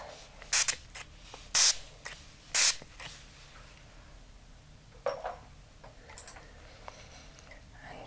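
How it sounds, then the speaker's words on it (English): Stonecrop facial mist spritzed during a facial massage: three short, crisp hissing spray bursts spaced about a second apart, close and fairly loud against a quiet room, followed by faint scattered clicks. "Quick stone crop mist."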